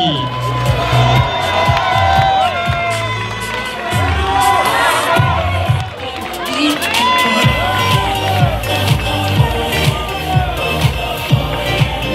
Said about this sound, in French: Merci d'accueillir sous vos applaudissements l'équipe Groupama FDJ.